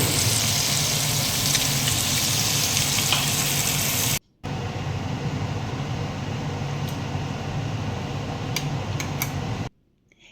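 Onion frying in a pan, a steady, loud sizzle that runs continuously, cuts out briefly, resumes slightly softer with a few faint clinks, then stops.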